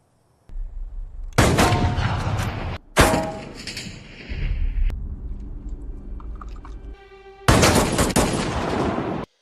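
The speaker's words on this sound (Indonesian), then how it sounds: "memperlihatkan skill tembak penembaknya dengan 3 peluru dan 1 peluru untuk uji coba" Gunfire sounds at a shooting range in a film: several sharp, loud bursts of shots, each trailing into ringing echoes, separated by quieter gaps.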